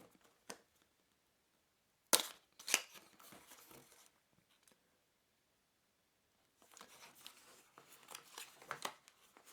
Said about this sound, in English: cutting apart the sticky seal that's keeping the box securely closed.